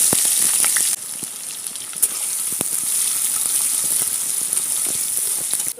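Chopped onion with a bay leaf frying in hot oil for a Bengali beef bhuna, giving a steady, close, hissing sizzle with small crackling pops and no talk.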